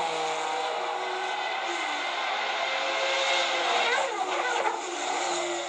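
Two Toyota race cars running in formation at Le Mans in 1993, a continuous loud engine roar with a rising, shifting pitch as they pass, no voices heard.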